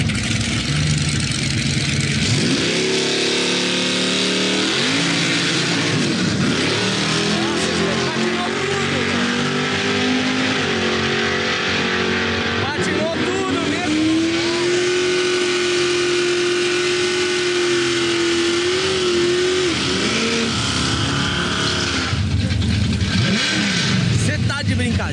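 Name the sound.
muscle cars accelerating at a drag start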